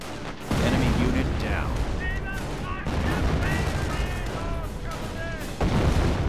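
Artillery gun firing in the World War II strategy game Company of Heroes: heavy booms and gunfire rumble continuously amid a dense battle din, with shouted voices breaking through the chaos.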